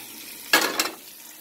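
Two quick bursts of sizzling hiss as chicken hits hot oil, over a quiet background of low frying.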